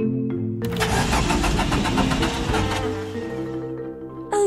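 A cartoon car engine cranks and tries to start but fails, a loud rapid sputtering churn for about two and a half seconds that then fades, with no talking over it.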